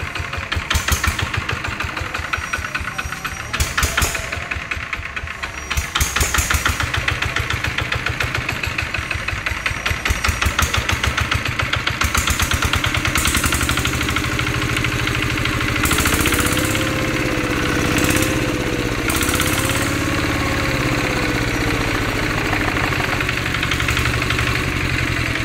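Zanma SS 70 motorcycle with a fitted exhaust idles steadily and close by, a continuous mid-pitched engine drone with knocking pulses, holding level throughout with some brief sharper mechanical sounds late on.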